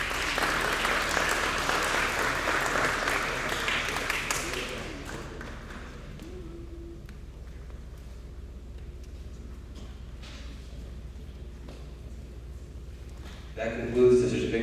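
Applause from the audience at a graduation certificate ceremony, loud clapping for the first few seconds that fades into quiet room noise, then a brief louder sound right at the end.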